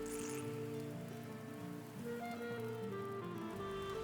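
In the video game Valheim, rain patters steadily on surfaces, a soft, continuous drizzle heard faintly beneath low tonal music, with no speech.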